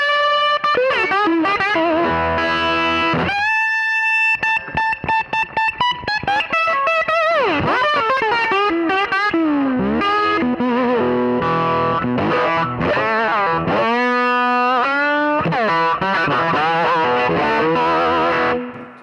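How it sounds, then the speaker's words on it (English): A Gibson 61 reissue SG electric guitar played with its volume knob at 10 through a Fender 1966 Vibrolux amp, giving loud, heavily distorted, sustained chords and bending notes that ring alone for the whole stretch. "turn the volume knob on 10, you get a lot of distortion"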